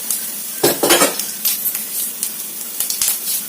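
Cumin seeds hit a hot pan on high flame, bursting into a loud bright sizzle with clattering pan and spoon knocks throughout, close and continuous for a few seconds.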